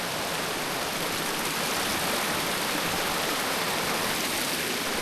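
A small mountain stream and waterfall on the Chasm Lake hike rush in a steady, dense broadband roar, close and constant with no talk.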